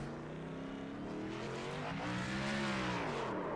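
A NASCAR Xfinity Class B race car in iRacing at the Charlotte Roval downshifts and then revs hard, its engine note climbing loud and close over a few seconds.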